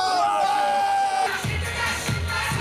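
A packed street crowd on Yeongdong-daedo Road in Seoul cheering for the World Cup, a dense roar of shouting and whooping voices that swells in bursts up close.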